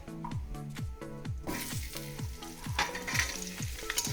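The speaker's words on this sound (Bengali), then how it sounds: "এগুলোকে আমি একটু লাল লাল করে ভেজে তারপরে এর মধ্যে আমি মশলা দেবো।" Potato pieces and drumstick stalks fry with whole cumin in hot oil, giving a steady close sizzle and crackle. A rapid train of sharp, repeated tonal ticks runs over it throughout, sounding mechanical.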